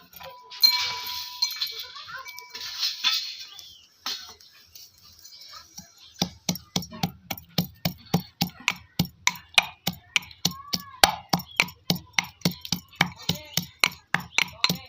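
Garlic pounded or chopped with a knife on a board in a kitchen, a long run of rapid, evenly spaced sharp knocks close to the mic after a brief stretch of other noises and a voice.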